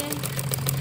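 A sewing machine running steadily while stitching an umbrella frock, a continuous close mechanical whir with a rapid rhythmic needle pulse throughout.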